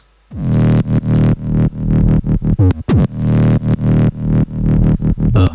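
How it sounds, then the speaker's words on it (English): A loud, raw synth sub bass plays in repeated sustained notes with short gaps, its tone gritty and filtered, filling the low end with no voices. "we get the raw, more raw sounding sub"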